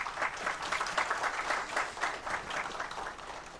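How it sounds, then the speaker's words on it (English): Steady, moderately distant audience applause at a university research facility inauguration ceremony, a dense rolling patter of many hands clapping. "Round of applause, everyone."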